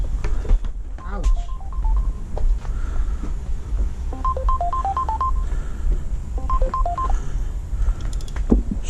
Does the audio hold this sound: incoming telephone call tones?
yes